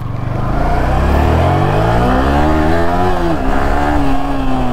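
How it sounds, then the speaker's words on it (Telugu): A modified Yamaha R15 motorcycle engine revs loudly up close, a continuous throaty roar rising and falling in pitch over several seconds. "R15 సౌండ్ కూడా క్రేజీ ఉంటుంది అసలు."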